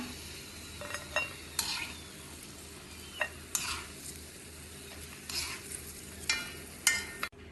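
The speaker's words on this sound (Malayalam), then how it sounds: "ഇനി ഇതേ നെയ്യിലേക്ക് എടുത്തു വെച്ച ലോട്ടസ് സീഡ്സ് ഇട്ട് വറുത്തെടുക്കാം" Lotus seeds frying in ghee over low heat: a soft background sizzle with a string of sharp scrapes and clinks as a spoon stirs the pan at irregular intervals.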